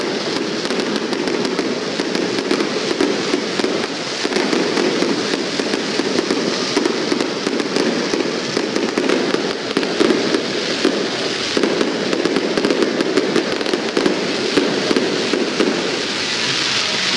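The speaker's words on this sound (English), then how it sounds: "These fireworks are so much prettier in real life, I swear." Greenville Drive fireworks display bursting continuously, a dense rolling barrage of booms and crackles with no pauses, loud and sustained for the whole stretch.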